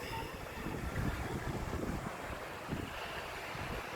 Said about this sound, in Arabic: ورياح ومطر